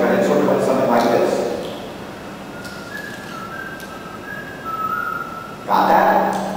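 A man whistles a wandering melody meant to imitate a call for summoning a dog, with thin sustained tones drifting up and down at moderate loudness in a roomy space, ending in a brief burst of other noise.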